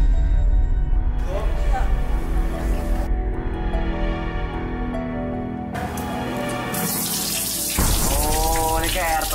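Water pours down steadily in a loud, close splashing stream, shifting in tone as the flow changes, with voices talking over it.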